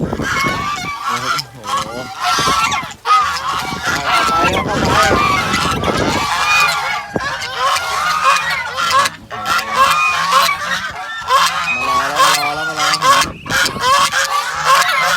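A flock of Muscovy ducklings calling in dense, overlapping peeps and honking cries, loud and close, with a voice occasionally mixed in.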